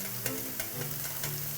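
Onions sizzle and fry steadily in a pan for chicken biryani, a continuous close crackle with a few soft stirring scrapes.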